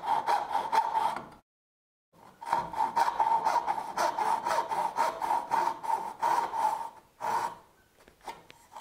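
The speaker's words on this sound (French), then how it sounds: "Une scie comme celle-là, si elle est partie sur une mauvaise trajectoire, vous ne la redressez pas." Hand saw cutting wood for a dovetail joint, close rhythmic push-pull strokes in two long runs separated by a short pause, ending in a few slower strokes.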